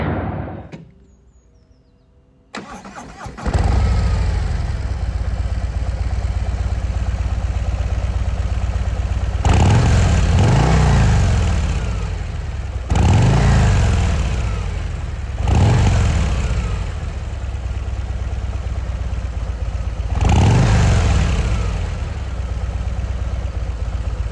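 Stock 117 M8 V-twin of a 2023 Harley-Davidson Road Glide ST starts with a short crank, then idles in a deep loud rumble, blipped into four or five revving swells before settling back, close and without voices.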